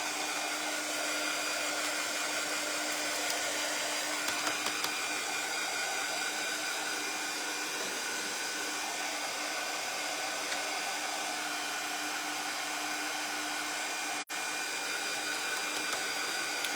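A hair dryer runs steadily and loudly at close range, blowing on a DIY 3D corner chair picture kit as the paint or glue dries, with an even whir that continues throughout without talk.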